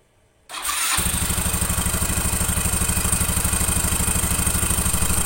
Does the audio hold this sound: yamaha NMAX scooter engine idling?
yes